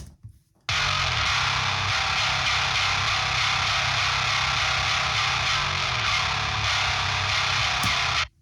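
A heavily distorted, compressed electric guitar plays steadily and loudly on its own, a thick wall of fuzz with chugging low end, after a brief quiet start.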